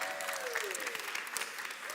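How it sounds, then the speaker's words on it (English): A church congregation claps in a brief, even burst of applause, with a voice briefly audible over the clapping. "You can clap for that."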